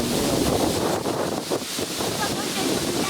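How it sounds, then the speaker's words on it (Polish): Strong wind buffets an outdoor microphone during a pigeon racing release, a steady, loud broadband roar with gusty swells and no clear pauses. "No tak, tak to wygląda u mnie przy takim wietrze silnym."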